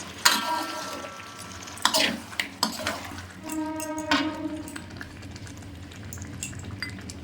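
A spoon stirring Bengali chicken kosha in a pan over low gas: metallic clinks and scraping strokes with light sizzling underneath, close and moderately loud, with no voices.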